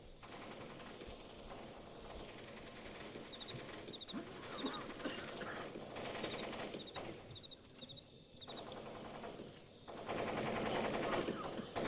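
Automated turrets fire in the stealth video game Splinter Cell Pandora Tomorrow, with faint, distant gunfire bursts under a steady game ambience and some mechanical clatter.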